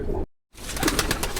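Champion pigeons coo in low, throaty bursts close by, broken by a brief silent gap before the murmuring resumes.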